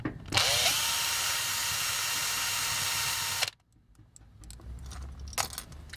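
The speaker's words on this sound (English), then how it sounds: "you may drill into the toy a bit, which is fine because we are disassembling it" A power drill bores out a rivet on a Takara G1 Transformers Stunticon Deadend toy, running loud and steady for about three seconds before stopping, followed by quiet handling clatter.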